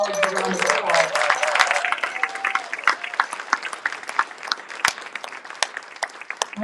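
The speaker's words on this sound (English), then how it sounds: "Let's give all our colleagues a round of applause." An audience at a college district announcement claps throughout, dense applause at first that thins into scattered individual claps.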